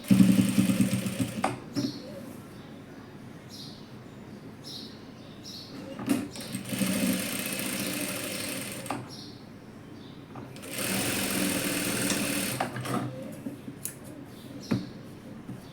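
A sewing machine stitches a half-inch seam along the belt line of a dress made from leftover fabric, running in bursts of a few seconds with short pauses between, close and fairly quiet.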